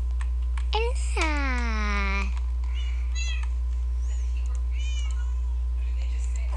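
Minecraft cats meowing, with one long, loud drawn-out meow followed by several shorter, fainter ones, alongside computer keyboard typing and a steady low hum.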